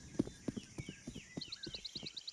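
Footsteps in Counter-Strike: Global Offensive during a DreamHack Open 46 match on Ancient, a quick, steady series of hard thuds close by, with high chirping tones over them and no talk.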